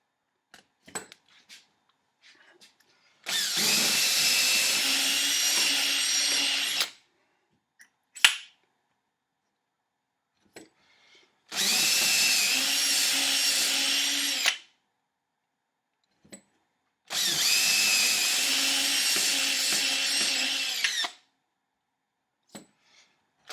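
Hand drill boring guitar string and ferrule holes in a wooden guitar body, three sustained whining bursts of several seconds each with short quiet gaps and small clicks between, close and loud, no talking.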